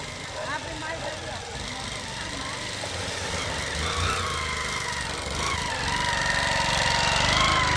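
A motorcycle engine labors and revs unevenly nearby as it struggles through a muddy street, over a steady, noisy background, straining rather than running smoothly.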